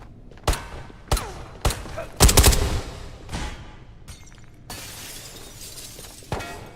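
Gunfire in the VR shooter Ghosts of Tabor: several sharp, loud shots spaced apart, with a quick cluster of rounds in the middle, and a faint voice in the background.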